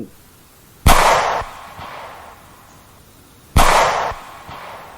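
Two loud, sharp gunshots ring out a few seconds apart in a forest, each followed by a brief echoing tail against a quiet background.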